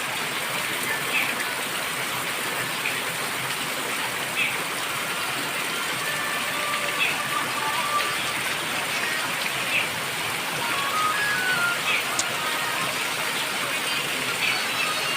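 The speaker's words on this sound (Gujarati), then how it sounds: "રામશીડીમાં ભારે વરસાદ" Heavy rain pours steadily in Ramshidi, a dense, even hiss of countless drops on surfaces that continues unbroken for the whole stretch, loud and close, with no talk.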